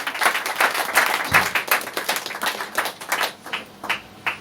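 A church congregation applauds to acclaim the Lord, with scattered, uneven claps in rhythmic waves that swell and fade, close and moderately loud.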